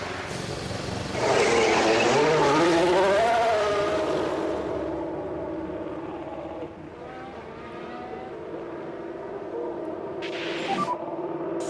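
A Formula 1 race car engine in a video game revs up hard, whines through gear changes, then settles into a steady hum with a brief burst of noise near the end.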